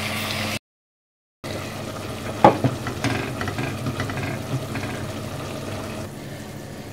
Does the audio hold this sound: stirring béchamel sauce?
yes